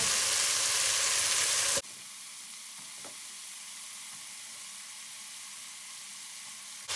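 Broad beans tipped into hot oil with lightly softened onion give an abrupt, loud crackle, then settle into a steady, even sizzle that runs close and unbroken, without voices.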